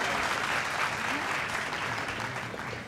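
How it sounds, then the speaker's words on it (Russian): Audience applause at the announcement of results in a ballroom dance competition, a steady wash of clapping from a crowd, moderately distant, filling the whole stretch. "Аплодисменты."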